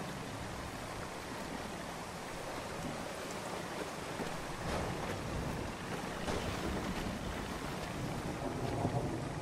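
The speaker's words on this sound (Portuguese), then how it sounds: "Como é que faz esse barco andar agora?" A boat moves across a flooded sea in the game Sea of Solitude, with steady wash of waves and wind-like rushing water throughout, moderately loud and continuous, no speech.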